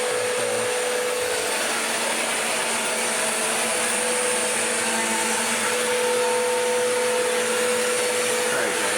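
A Bissell CleanView upright vacuum cleaner whirs steadily and loudly throughout, a constant motor drone with a high whine and no pauses.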